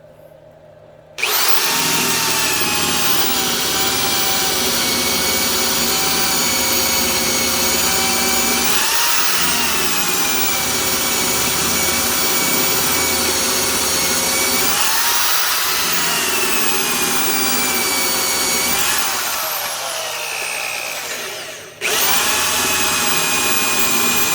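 Power drill spinning an Irwin adjustable wood bit at 1200 RPM, boring one-inch holes in wood, a sustained close whine with two dips where the bit strains before the motor surges again.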